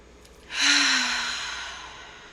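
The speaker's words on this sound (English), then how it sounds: "That ha sound is super important to feel it coming out on your exhale." A single long breath is pushed out through the open mouth with a breathy 'ha', close and fairly loud, then trails off slowly during a breathwork exercise.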